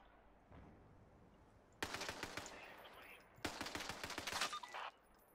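Rifle fire in a video game: two separate rapid bursts of sharp, loud shots, each roughly a second and a half long, split by a brief pause and set against quiet ambience.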